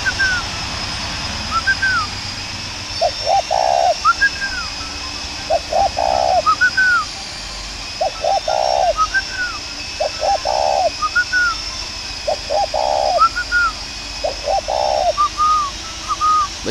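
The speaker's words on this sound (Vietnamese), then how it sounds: "Bây giờ tôi xin phép tôi bảo nó gù nhé." A young spotted dove coos in a repeated pattern of short paired hoots with higher whistled notes, evenly spaced over a steady background hum, close and clear.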